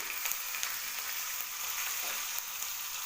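Curry leaves, cumin and pepper fry in hot oil for ven pongal, giving a steady close crackling sizzle with a few brief louder pops and no talking.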